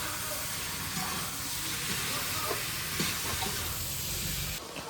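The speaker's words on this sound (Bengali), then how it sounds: "এই যে দিদি আমাদের রান্না করছে দেশি চিকেন" Desi chicken cooking in a pan gives off a steady, close sizzling hiss that runs unbroken throughout, with faint background voices, before it drops away abruptly near the end.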